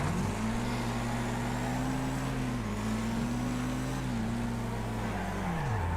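Several race cars in the Wreckfest racing game drone past at steady engine pitch, their tones rising and dipping together as they shift, a continuous loud motor roar with no talk.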